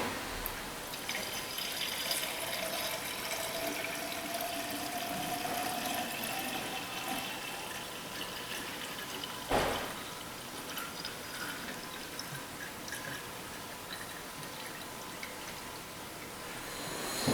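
Coolant pours in a steady, gurgling trickle as a Jeep Liberty's cooling system is refilled after overheating, with one sharp knock partway through.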